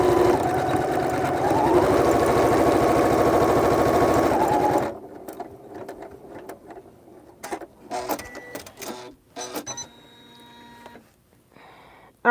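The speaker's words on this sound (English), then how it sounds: "Last letter here is being stitched out." A Janome embroidery machine stitches out a letter with a loud, steady, rapid mechanical whir that stops after about five seconds, followed by scattered clicks and handling noises.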